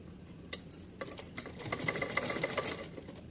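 A sewing machine stitches a summer dress for a Kanha ji idol, a faint, quick mechanical whirring and ticking that starts and stops, with a few light clicks, heard close and alone.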